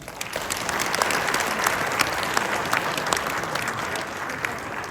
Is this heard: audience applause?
yes